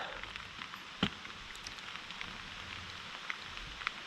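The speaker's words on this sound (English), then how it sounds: "And now it's raining." Rain falling at a campsite in Tulameen, a steady faint patter with a few louder drops landing nearby against a soft, even hiss, with no talk.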